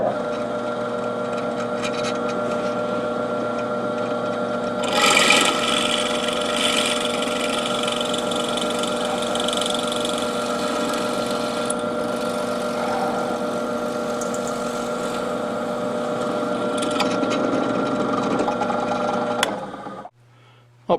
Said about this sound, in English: now I'll drill the full-size hole with a number 29 drill bit